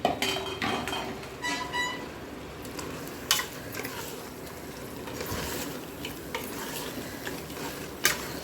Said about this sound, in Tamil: இந்த கறியும் சேர்த்து போட்டுருங்க அதோட மசாலாவோட சேர்த்து வதங்கட்டும்